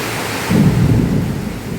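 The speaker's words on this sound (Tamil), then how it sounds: "மழை படு பயங்கரமாக பெய்யுதுடா" Heavy rain pours down steadily with a low rumble of thunder swelling in the middle, a dense, close wash of noise with no voices.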